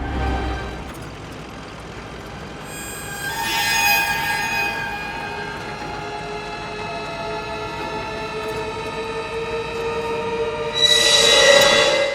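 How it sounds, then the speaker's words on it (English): A cartoon subway train rolls steadily through a tunnel, its wheels squealing and grinding in long sustained tones with brighter bursts of screech near the start and end, loud and close with no talking. "The wheels are clattering."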